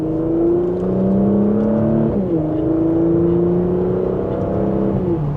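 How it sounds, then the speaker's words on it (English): A Porsche Macan S engine and exhaust droning steadily in loud mode, dipping in pitch at a downshift in Sport Plus, then climbing and falling smoothly, heard from inside the cabin with no talking. "And that's with the exhaust in the loud mode."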